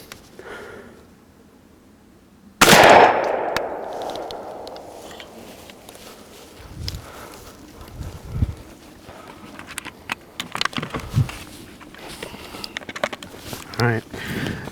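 A single loud, sharp gunshot rings out at close range while a target is test-fired during turkey hunting, followed by a decaying echo, then footsteps, rustling and people talking.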